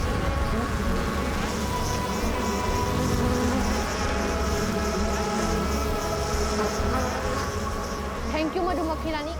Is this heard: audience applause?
no